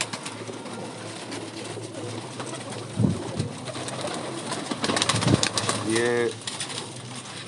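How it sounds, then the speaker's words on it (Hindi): A female breeder pigeon coos briefly, a short, rippling throaty call standing out from steady background noise while someone talks nearby. "देखिए कबूतरी देखें"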